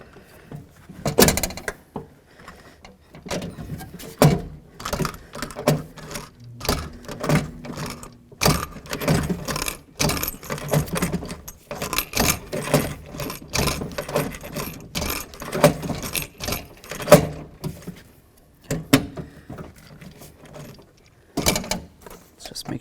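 Rivets being set to fasten a window regulator to the door panel of a 1988-2002 GMC Sierra 1500, heard as close, irregular metallic clicks and snaps of a rivet tool with handling clatter and brief pauses, no talk.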